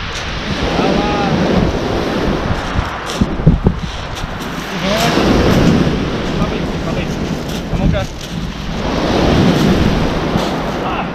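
Wind gusting at a Turkish beach with surf rolling in, buffeting the microphone in loud, steady rushes while people talk intermittently nearby.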